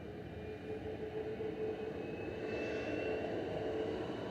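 Ryanair jet departing Manchester Airport for Milan, a distant low engine rumble with a faint whining tone, steady and moderately quiet throughout.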